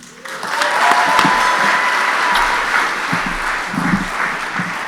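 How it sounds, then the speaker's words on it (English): Wedding guests at an evening reception break into sustained applause that holds steady and dense for nearly five seconds, filling the room with a close, full wash of clapping. "Once again, a round of applause"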